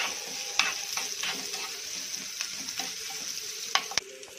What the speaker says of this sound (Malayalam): നമ്മളിപ്പോൾ ഇവിടെ ഒരു സവാളയാണ് എടുത്തേക്കുന്നത്. നന്നായിട്ട് വഴറ്റിയിടും.